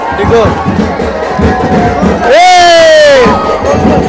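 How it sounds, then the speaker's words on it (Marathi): A crowd at a village festival cheers and whoops as a towering wooden pole, around 200 feet tall, is raised, with continuous dense shouting throughout and one long rising cry standing out near the middle. "इथे पब्लिक फुल जल्लोष करते"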